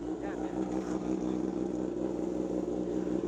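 A motorcycle engine idles steadily and loudly after a cold start, with a deep, even rumble. People talk in the background.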